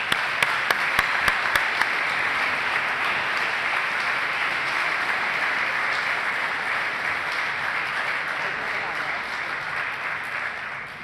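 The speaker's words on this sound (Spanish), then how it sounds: "Un aplauso, por favor." A lecture audience gives sustained applause for a guest speaker, dense and even throughout, with a few sharper individual claps standing out near the start.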